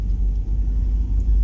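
A car's engine hums low and steady as it rolls slowly into a small car park for huts in Guernsey, a close, even rumble with no speech.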